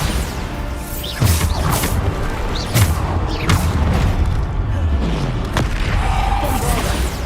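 Bombarda spell blasts in Hogwarts Legacy, a string of loud booming impacts with sweeping magical whooshes, repeated every second or so amid continuous combat noise.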